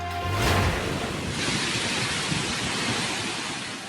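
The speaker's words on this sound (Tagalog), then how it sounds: "Tuloy-tuloy na buhos ng ulan" Heavy typhoon rain with strong wind, a dense continuous roar of downpour and gusts, loud and unbroken with a surge near the start and no speech.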